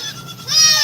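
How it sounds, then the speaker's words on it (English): A hungry goat bleats once, close and fairly loud, its wavering harmonic cry rising in the second half over faint background noise. "This is the sound of a hungry goat."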